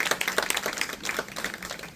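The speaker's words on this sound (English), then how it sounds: "Please clap for them." An audience claps for school trustees being introduced at a district meet-and-greet, a brief burst of moderate applause from a modest crowd, close and fairly even for two seconds, no speech over it.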